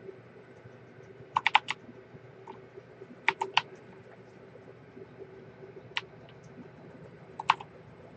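Quiet typing on a computer keyboard during a PC gaming session, a few short bursts of clicky keystrokes separated by pauses over a low steady hum, with no talking.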